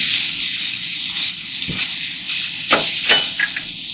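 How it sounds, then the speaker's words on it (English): Chopped onions sizzle in bacon grease on a camp stove, a loud, steady frying hiss close up, with a few soft pops and spatters near the end. "Now I'm going to put these onions that we just cut up"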